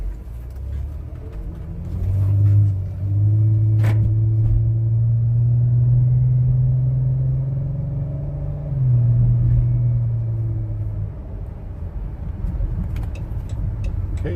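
A 2016 Dodge Grand Caravan RT minivan's engine hums and rumbles from inside the cabin on a test drive, rising in pitch as it accelerates and then settling down, with road noise throughout.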